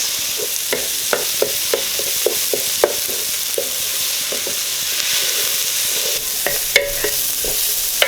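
Onions fry in a pot with a soft continuous sizzle, and a spoon scrapes and taps against the pot every so often as they are stirred, heard up close with no voices.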